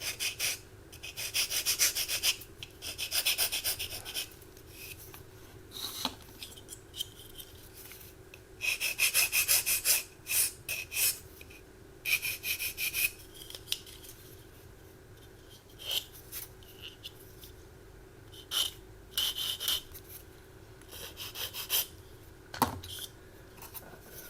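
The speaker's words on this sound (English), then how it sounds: "I need to do a bit of sanding on this" Close, dry scraping strokes of sanding a plastic 1/72 scale model aircraft part in irregular bursts, rasping against a small hard surface, with short pauses between passes.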